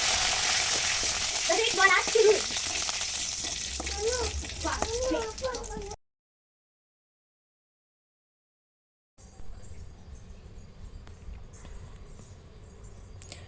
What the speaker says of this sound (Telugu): అలాగే కలిపి కూడా ఫ్రై చేసుకోండి